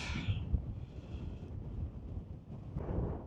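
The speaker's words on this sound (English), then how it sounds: "Obviously, it's a little windy up here." Wind on a mountain top buffeting a microphone, a low rumbling gusty roar that rises and falls, close and fairly steady with no voices.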